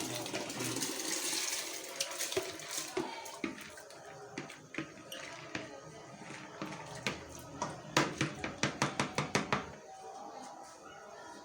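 Dry lentils are poured into a boiling pot for haleem, starting with a watery sloshing and then a run of quick rattling splashes as the grains drop in, fairly faint, with some talk in the room.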